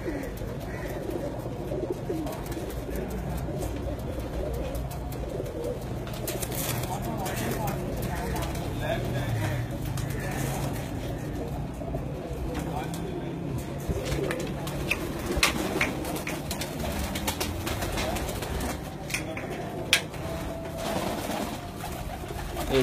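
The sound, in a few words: breeder pigeons cooing on a rooftop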